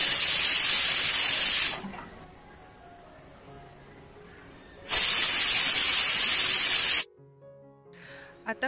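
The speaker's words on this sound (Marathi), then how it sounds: "आता आपण कुकर गॅसवर ठेवून 2 शिट्ट्याची वाट पाहूया." A pressure cooker on a gas stove lets off loud, hissing blasts of steam during cooking, two long bursts separated by a quieter stretch of low kitchen noise.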